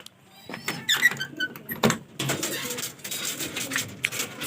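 Racing pigeons in a loft give soft, scattered coos and squeaks with wing flutters and small knocks around them, fairly close, in short irregular bursts.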